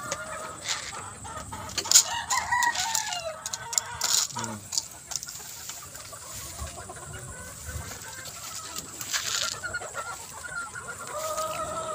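Backyard gamefowl chickens cluck and chatter nearby on a farm on a rainy afternoon, with a rooster crowing among them and overlapping bird calls throughout.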